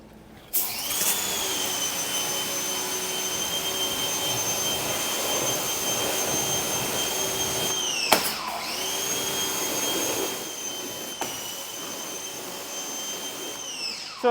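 A Ryobi 2000 PSI 1.2 GPM electric pressure washer starts up when its trigger is pressed and runs with a loud, steady, whining hum, with brief pressure changes partway through. It is heard close up, with no talking.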